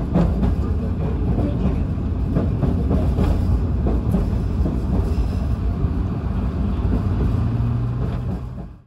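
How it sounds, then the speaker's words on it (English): A freight train on the Botany goods line runs over a bridge, giving a loud, continuous low rumble of wheels and rails with a steady clatter throughout. The noise fades slightly at the very end, and no one speaks. "Our train is now going over Unwinds Bridge Road"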